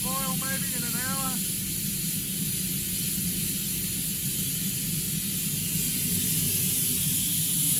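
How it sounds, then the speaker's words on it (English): A waste oil rocket stove steam boiler running at pressure gives off a constant loud, broad hiss of escaping steam, steady throughout, with a brief high whistle-like sound early on. "it's definitely starting to sort of steam up there"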